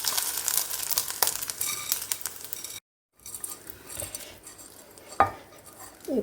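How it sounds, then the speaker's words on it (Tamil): A spoon stirs tempered spices into rice in a metal pot, giving scraping, clinking, and crinkly mixing sounds with a brief pause and a sharper clank toward the end. "இப்போது இதை நல்லா கலந்து விட்டுடலாம்."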